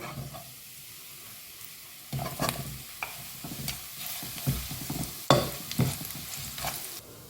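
Curry leaves roast in a dry pan: a quiet hiss at first, then louder, close scraping and clattering as they are stirred and tossed, with irregular bursts over a low sizzle.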